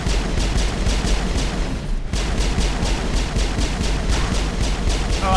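Gunfire in the sci-fi shooter Mass Effect: a fast, evenly spaced burst of automatic shots, loud and close, broken by one short pause before the firing resumes.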